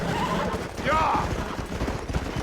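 Horses in the Red Dead Redemption video game clop along on hooves, and a clear, shrill whinny rises briefly over the rhythmic hoofbeats.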